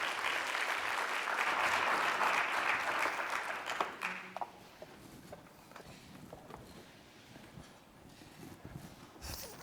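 An audience at a talk on retirement and behavioral finance claps to welcome a speaker, dense applause that fades after about four seconds into scattered claps and room noise.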